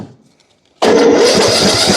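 A Briggs & Stratton small engine with the choke set cranks after a quiet pause, turning over loudly and steadily from about halfway through without settling into a clean run.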